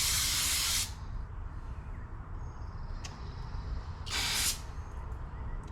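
An aerosol chemical spray can fitted with a straw gives two short, sharp hissing bursts, one at the start and another a few seconds later, close and fairly loud over a low background rumble.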